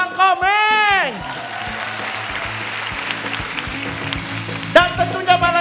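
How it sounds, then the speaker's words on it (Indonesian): An audience at the grand final of a stand-up comedy competition in Indonesia applauds for the comedian Bang Komeng. The sustained crowd clapping runs over low background music, with a host's voice speaking just before and just after. "Oke, tepuk tangan buat Bang Komeng."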